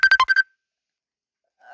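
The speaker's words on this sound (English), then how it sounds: "Hopefully y'all didn't hear all that ringing." A phone ringtone plays a quick, loud burst of five bright electronic tone pulses, then cuts to silence before a faint tone returns at the very end.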